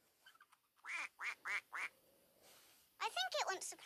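A duckling beside a toy duck gives a run of quick, evenly spaced quacks, then a denser burst of quacking after a short pause, fairly faint and close.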